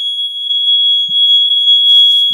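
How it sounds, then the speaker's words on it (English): A smoke alarm gives a continuous piercing high-pitched electronic tone indoors, loud and steady throughout with only faint incidental noises beneath. "I think that's a smoke alarm."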